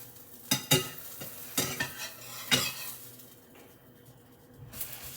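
A grilled cheese sandwich sizzles softly in a pan while utensils scrape and clink in several sharp bursts, close by, with a quieter hiss between them.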